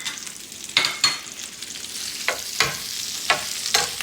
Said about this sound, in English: Cook your green onions until it's glossy.